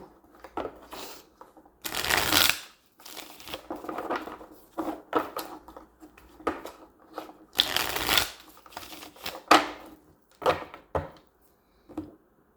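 Everyday Tarot cards shuffled in repeated quick riffling bursts with short pauses between, close and fairly quiet, with no talking.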